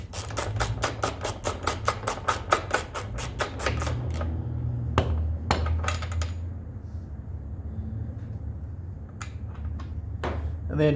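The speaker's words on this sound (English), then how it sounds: "So let's go ahead and get this rear axle nut off and the tire and rim off." A ratchet clicks rapidly as the rear axle nut comes off a Honda CBR 1000RR Repsol motorcycle, giving a fast run of close metallic clicks, then scattered clanks of tools, over a steady background hum.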